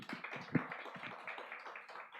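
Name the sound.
congregation clapping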